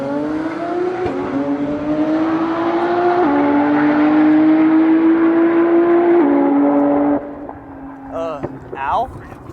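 A 2018 Mustang drag car accelerating hard, its loud engine climbing in pitch through several gear shifts before cutting off abruptly, with a brief voice and faint noises after.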